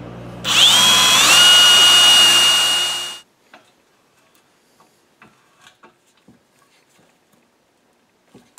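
A power drill with a number 7 bit whirs loudly for about three seconds with a high whine while drilling a hole in a router table fence part, then stops, followed by faint scattered clicks and taps.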